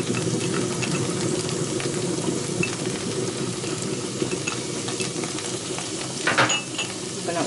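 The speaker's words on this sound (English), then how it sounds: "Then I'm going to add in the chopped garlic." Chopped garlic sizzles in a pan alongside seared lamb for a stew, a steady close frying hiss with a few light clinks of a utensil against the pan near the end.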